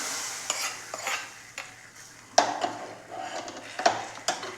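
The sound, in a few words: hot mustard seed tempering poured into prawn curry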